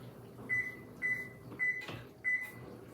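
An oven control panel beeps four times at even intervals as it is set to preheat to 350 degrees, short, clear electronic tones over a quiet kitchen background with a soft knock.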